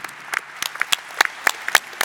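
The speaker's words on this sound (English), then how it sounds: "Applaus für Alex" An audience at a public space event applauds, scattered sharp claps ringing out irregularly, moderately close and fairly sparse rather than a full ovation.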